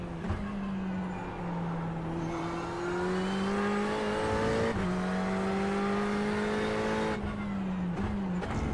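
A GT3 race car engine in the iRacing simulator drones steadily at high revs, rising and shifting through gears with a couple of abrupt changes, loud and continuous with no talk.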